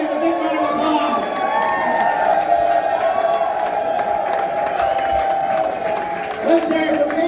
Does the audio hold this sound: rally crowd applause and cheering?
yes